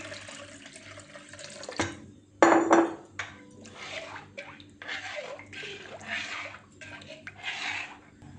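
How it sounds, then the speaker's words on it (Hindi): Water pours into a cooking pot for karhi pakora, about three litres going in as a splashing, running stream with metallic clatter of the pot and utensils close by; no talking. "अब हम इसमें पानी ऐड करेंगे। 3 लीटर हमने पानी ऐड करना है इसमें।"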